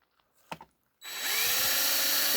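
A power drill bores into the soft alloy body of a Matchbox No 36 refuse truck, its whine starting abruptly after some faint handling noises and holding steady and loud to the end.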